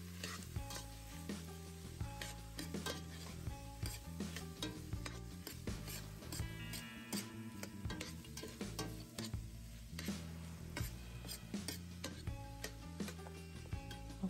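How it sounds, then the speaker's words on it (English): Ground meat and vegetables seasoned with paprika and pepper sizzle together in a pan, a faint steady frying hiss under louder rhythmic music-like tones and ticking. "I added the vegetables back to the pan with the meat."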